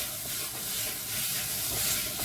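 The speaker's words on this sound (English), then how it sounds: "Cook your tomato puree out for a few minutes." Tomato puree sizzles and hisses softly in a hot pan, a steady frying crackle with no voices.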